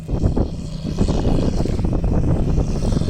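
A tractor pulling a Lemken Rubin 10/600 disc harrow works freshly harvested rapeseed stubble, a steady loud low engine drone with rumbling mechanical texture and some wind noise on the microphone.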